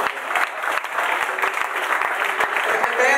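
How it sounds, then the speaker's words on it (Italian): Crowd applause at a rock contest award ceremony, steady dense clapping from an audience with a few sharper nearby claps standing out, continuous throughout. "Qui ci sta l'applauso"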